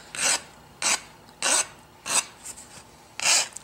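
A hand file rasps across the flux coating of a 7018 stick welding electrode to bevel it. Six short, crisp strokes come at an even, unhurried rhythm, close up and alone, with quiet pauses between them.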